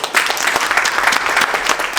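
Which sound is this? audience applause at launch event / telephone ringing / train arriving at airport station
audience applause at launch event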